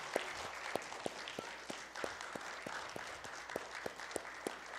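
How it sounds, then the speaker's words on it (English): An audience at a piano studio recital applauds the young performers, a moderate, steady stream of clapping from a small room of listeners, with a few louder nearby claps standing out and no talking. "I would like to give them one more round of applause for all of their beautiful playing and hard work."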